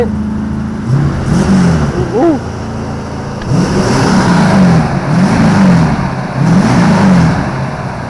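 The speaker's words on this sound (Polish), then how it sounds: "taki ma dźwięk 450 ośmiocylindrowy silnik" A big 4.5-litre V8 engine revs in repeated bursts, a deep throaty roar rising and falling several times, with a brief voice at the start.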